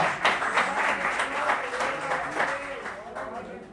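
Congregation at a Nova Vida church service in Catete applauding the Lord, a steady wash of clapping with voices mixed in throughout.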